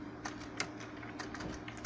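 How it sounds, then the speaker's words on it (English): Quick keyboard typing in short bursts of separate key clicks, fairly close and light over a steady low background hum. "Okay, so I'm gonna type that."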